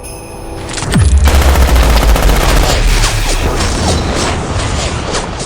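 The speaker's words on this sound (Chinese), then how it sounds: "来人，给我开枪，" A loud burst of rapid machine-gun fire in a Chinese short drama erupts with a sharp crash, then rattles on as a continuous fusillade of overlapping shots.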